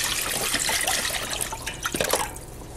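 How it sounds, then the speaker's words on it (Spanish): A litre of water poured into a cooking pot (cazuela) for Mexican capirotada, giving a steady, bright splashing gush that tapers off near the end, close and alone. "agregar nuestro litro de agua en una cazuela"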